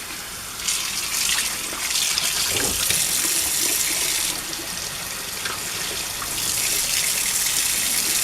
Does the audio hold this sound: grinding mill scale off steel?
no